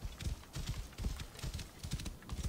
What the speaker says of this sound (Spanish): parece que el caballo ya corre un poquito más